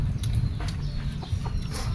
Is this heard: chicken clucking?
yes